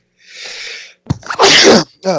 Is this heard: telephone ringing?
no